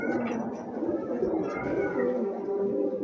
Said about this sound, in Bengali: এই যে দেখেন খুবই সুন্দর এক জোড়া কবুতর